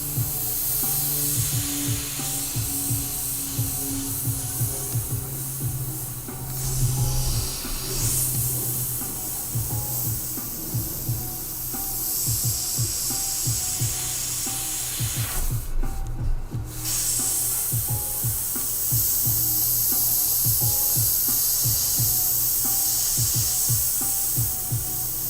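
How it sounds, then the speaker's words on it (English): Airbrush spraying paint onto a metal tumbler, a continuous close hiss of air with rhythmic rubbing and brushing sounds throughout, briefly pausing midway before resuming. "It just keeps spraying really nice. It hardly ever gets clogged."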